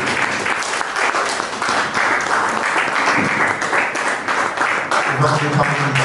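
A church congregation claps loudly and steadily, with voices rising over the sustained applause close by.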